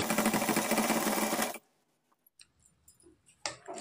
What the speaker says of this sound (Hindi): तो यहाँ पर हम सिलाई लगा लिए हैं